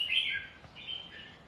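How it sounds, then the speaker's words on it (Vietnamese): A caged songbird sings a few clear, bright chirping phrases close by, separated by short gaps over a quiet background. "Chim nó hót"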